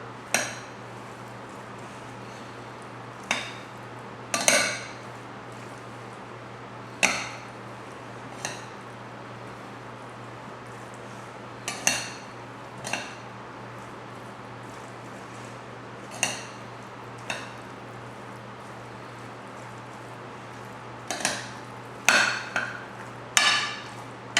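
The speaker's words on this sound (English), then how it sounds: "now we're going to give this a good stir." A spoon knocks and scrapes against a bowl while macaroni salad is stirred, giving sharp, separate clinks spaced every few seconds over a faint steady hum.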